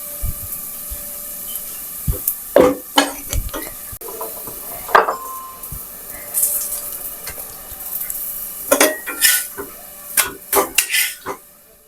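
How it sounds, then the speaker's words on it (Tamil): Ragi adai cooks on a pan, flipped from side to side, with a low sizzle under intermittent metallic clinks and scrapes of a spatula against the pan. "இந்த மாதிரி 2 சைடு திருப்பி திருப்பி போட்டு வேக வச்சு எடுத்துருவோம்."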